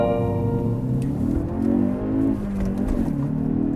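A 2019 Genesis G70 with a manual gearbox revs up, dips through a hard gear shift and climbs again, the engine's pitch sweeping audibly from inside the car.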